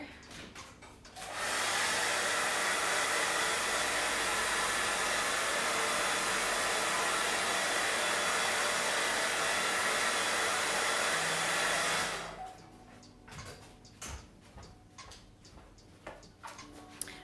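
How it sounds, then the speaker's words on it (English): A hair dryer blasts loudly and steadily for about ten seconds over fabric in an embroidery hoop, then cuts off, leaving quieter room sounds and faint ticking. "me just blast this with the iron first, with the, what's it called? Blow dryer."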